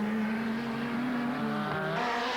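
Racing car from the 1990 Sandown 500 touring car race screaming past at full speed, a loud, steady engine howl whose pitch bends downward as it goes by, alone with no talk.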